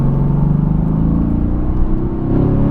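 Close, steady drone of a 2017 Mercedes-AMG GT S engine pulling under throttle on a racetrack, with layered low harmonics rising slightly in pitch over a few seconds and no voices.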